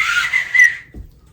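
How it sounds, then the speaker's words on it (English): A small handheld whistle gives a short, loud, breathy high-pitched blast lasting under a second, followed by a brief low thump, close by and with no talking. "Oh, you got a whistle? Come here and show me your whistle."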